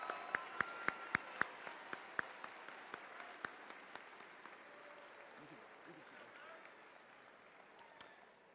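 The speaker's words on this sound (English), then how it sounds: "Please give them a round of applause." Applause from a school audience at a Veterans Day program, honoring a choir and wind ensemble; a few sharp separate claps open it before a soft, steady wash of clapping fills the room at moderate distance.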